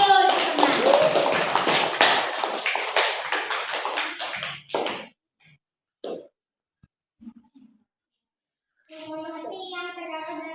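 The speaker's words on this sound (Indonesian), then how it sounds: "Tepuk tangan untuk temannya yang mau maju di tengah" Classroom clapping for a student stepping up to present: a burst of quick, close hand claps from many children with voices mixed in. It stops partway, leaving quiet with a few taps, then voices return.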